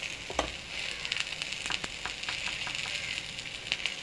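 Onions and chilies fry in oil with turmeric and chili powder for a rohu fish curry. A close, steady sizzle carries scattered crackles and occasional spatula scrapes.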